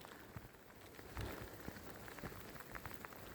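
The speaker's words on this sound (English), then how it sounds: "It's raining pretty hard." Rain falling steadily on a tent beneath a pine tree, a soft dense patter with occasional heavier drops, faint and close, with no voices.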